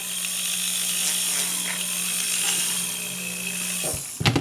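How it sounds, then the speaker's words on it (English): A jewelry polishing wheel spins steadily while polishing compound is applied to charge it, making a loud, continuous whirring hum with a faint hiss and a few brief knocks at the end. "So first I'm going to charge the wheel."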